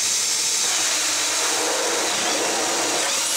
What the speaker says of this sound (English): I had the opportunity to record a close-up of the drilling of the holes